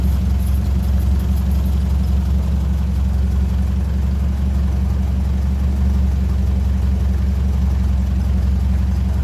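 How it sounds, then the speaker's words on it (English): 1957 Ferguson 35 tractor with a TVO engine idling and beginning to run richer, a steady, loud low rumble with a close, continuous mechanical drone and no voices. "a few seconds later you hear the engine starting to run richer."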